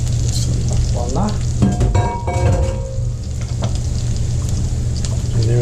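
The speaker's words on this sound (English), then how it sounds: "You want to keep this simmering so it stays hot" Hot shrimp stock for paella simmering in a pot, a loud, steady bubbling sizzle close by, with a few clinks and stirring sounds near the start.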